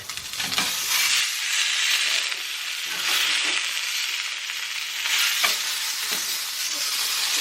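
A whale steak sears loudly in a hot pan, with a steady broadband sizzle over the full length, swelling and easing slightly and broken by a few soft clicks.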